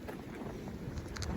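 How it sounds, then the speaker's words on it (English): Strong wind blowing outdoors in a Maine blizzard, a rough, steady rush buffeting the microphone with gusty rumble throughout, no talk. "Pretty windy out."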